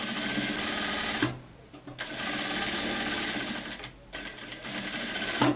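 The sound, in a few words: sewing machine stitching a raglan sleeve coat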